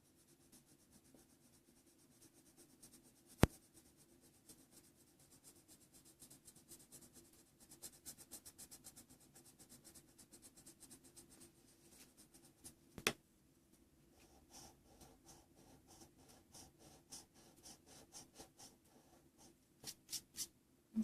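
A Prismacolor Col-Erase blue pencil scratches faintly across paper in quick, repeated strokes, with a couple of sharp taps along the way.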